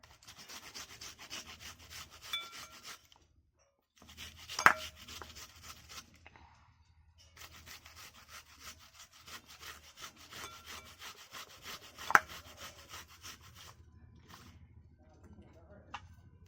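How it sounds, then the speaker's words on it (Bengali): Onions rubbed against a hand grater in a kitchen, close rhythmic rasping strokes in long runs broken by brief pauses, with a couple of sharper knocks between bursts. "দুটো পেঁয়াজকেই ঘষে নিচ্ছি ঘষা মেশিন দিয়ে"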